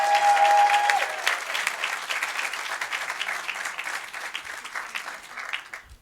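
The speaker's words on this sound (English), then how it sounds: "please show your appreciation for the work of the District Crisis Intervention Team with another round of applause" Sustained applause fills a board meeting room, a dense wash of many hands clapping that stays steady before thinning slightly toward the end.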